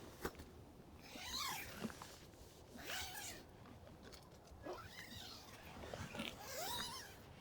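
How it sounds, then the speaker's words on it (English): A tent zipper on an Appalachian Trail thru-hiking tent is pulled open in several quick, close zips, each a short rasping sweep, with quiet pauses between them. "Wow, I forgot how nice the new zippers feel."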